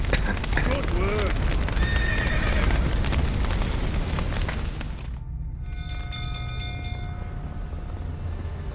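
A horse whinnies loudly amid rumbling, clattering noise in The Witcher 3, with hooves clopping and a voice talking early, then the din drops to a quieter hum.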